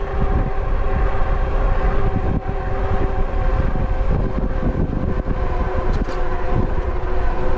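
Loud, constant wind roar buffeting the rider of a JASION X-Hunter folding e-bike on a winter ride, broadband rushing noise with gusty flutter and brief dips, no talking.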